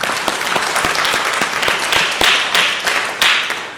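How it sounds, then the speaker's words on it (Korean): Applause from a lecture audience fills the whole clip: dense, sharp clapping that stays steady and close, with no talking over it. "큰 박수 좀 보내주세요"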